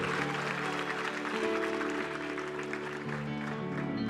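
A church congregation applauds during a sermon while standing, a steady wash of clapping heard under sustained music with held keyboard tones, moderately quiet and continuous throughout.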